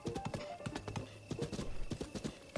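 A horse's hooves clip-clop steadily in Zelda: Breath of the Wild, a brisk rhythmic gait of repeated hoof strikes, moderately loud, with no talking.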